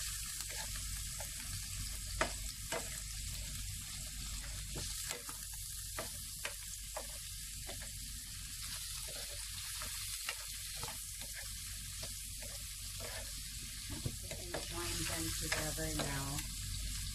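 Shrimp frying in a pan for pancit bihon canton guisado, a continuous close hiss and sizzle with occasional clicks and spatters, a faint voice murmuring near the end.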